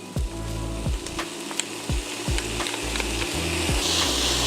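Minced garlic sizzles steadily in a hot pan for brisket chili, a continuous close frying hiss broken by a few low knocks and scrapes from stirring, with no voices.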